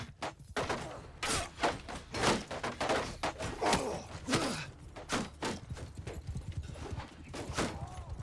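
Rapid hoofbeats of galloping horses in Mount & Blade II: Bannerlord pound in a dense, rhythmic clatter, mixed with infantry battle noise and occasional grunts, loud and close throughout.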